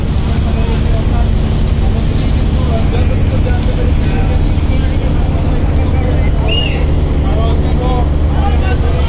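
Steady loud drone of the M Khan 7 passenger river launch, a crowded multi-deck vessel, with constant engine rumble and wind buffeting throughout, no clear break or change.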